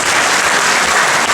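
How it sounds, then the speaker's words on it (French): Audience applause at a ceremony honoring a mayor, a dense, loud, continuous wash of clapping with no pauses. "on voudrait vous demander d'applaudir très bien le tour de compétition"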